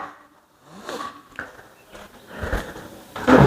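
A wooden door on a knock-down solid-wood kitchen cabinet is pushed shut, the stiff door giving a few thuds and knocks, with a louder clack near the end, close to the microphone in a quiet room.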